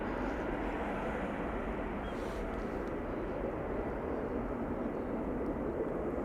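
Airbus A319 and A320 jet engines pass by at Schiphol Airport as a steady, broad, fairly faint roar that holds evenly throughout with no talk.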